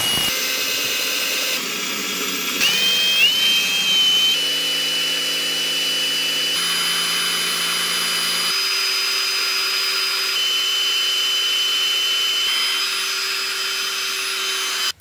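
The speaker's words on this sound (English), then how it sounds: "now we're trying the Milwaukee bit." A Milwaukee drill bit grinding into a stuck steel lug nut, a loud continuous high-pitched whine and screech that shifts pitch as the bit bites, running throughout with no talk.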